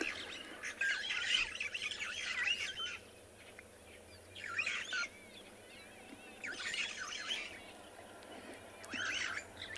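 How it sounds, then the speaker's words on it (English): Starlings squawk and chatter in repeated bursts around a dam on a safari reserve at sunset, with steady outdoor background noise beneath the calls. "The starlings are very active around Chitwa Dam."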